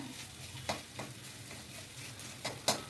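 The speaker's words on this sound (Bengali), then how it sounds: "আলু আর বেগুনগুলো শাকের মধ্যে ম্যাশ করে দিলাম" Potatoes and eggplant being mashed into cooked bitter greens (betho shak) in a pan, with soft squelching and scraping strokes at an uneven pace over a low background sizzle.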